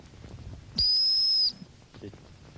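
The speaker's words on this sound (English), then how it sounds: "The dog first learns to sit whenever it hears a long blast on the whistle." A single long, piercing blast on a dog training whistle lasting under a second, loud and pure, over quiet outdoor background noise.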